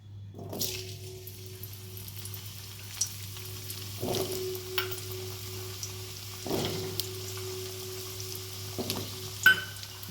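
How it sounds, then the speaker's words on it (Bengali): Oil sizzles steadily in a pan as potatoes fry in mustard oil, broken by a few louder crackling bursts every couple of seconds as they're stirred. "প্রথমে আমি আলুগুলো ভেজে নেব।"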